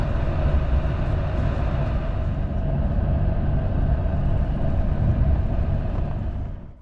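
Inside a Portuguese CP Intercidades loco-hauled passenger train on the move, a steady low rumble and rolling hum continue evenly before cutting away at the end.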